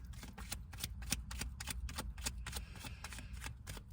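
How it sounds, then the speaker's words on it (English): A deck of tarot cards is shuffled quietly at close range, giving a rapid series of soft riffling flutters and snaps with no voices. "I'm still shuffling even though I dropped a card."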